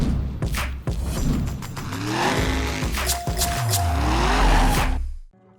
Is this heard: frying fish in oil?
no